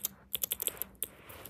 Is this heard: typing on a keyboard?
yes